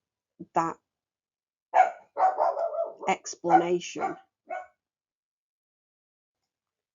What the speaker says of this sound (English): I apologise for the noise of the dog in the background.